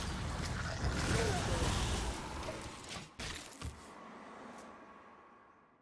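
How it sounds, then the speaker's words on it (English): A corpse explosion in Hearthstone, played with a Deathrattle Death Knight deck, gives a quiet, broad crumbling burst of noise that fades out, with a few sharp hits near the end. "I think it is just the corpse explosion here."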